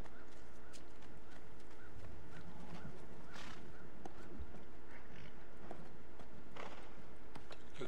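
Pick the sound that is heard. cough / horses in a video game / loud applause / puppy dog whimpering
horses in a video game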